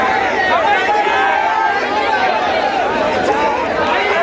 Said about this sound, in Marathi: आपण ही प्रचंड गर्दी या ठिकाणी पाहतो अहिल्या लायब्ररीजवळ